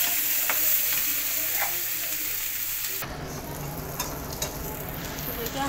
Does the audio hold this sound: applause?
no